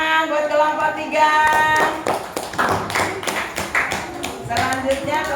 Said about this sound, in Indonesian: Oke, tepuk tangan buat kelompok 3.